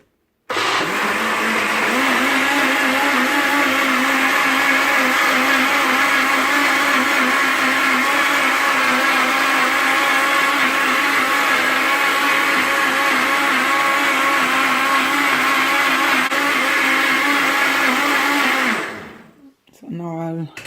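A blender filled with water to the 1.5 liter mark, mixing cornmeal, whirs loudly and steadily at high speed for about twenty seconds, then winds down and stops abruptly near the end.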